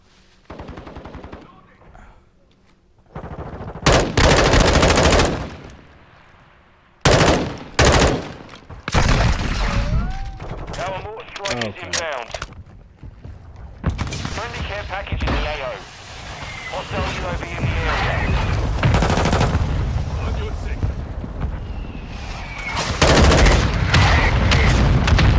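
Call of Duty: Modern Warfare 2 beta match gunfire: loud bursts of automatic rifle fire and single shots, with booms, come in clusters over about 25 seconds while players talk excitedly over the action.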